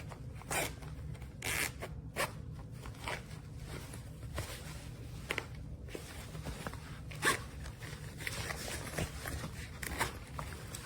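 The zipper on a portable diaper changing pad travel bag sticks, so it comes in short, repeated zipping strokes with uneven pauses and small rustles between them, close and quiet.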